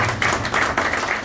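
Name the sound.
audience clapping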